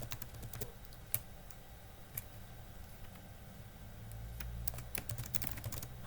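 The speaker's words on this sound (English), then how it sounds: "We'll type another message." Rapid typing on a computer keyboard, a steady run of light close clicks with a few sharper key taps, low-level and without speech.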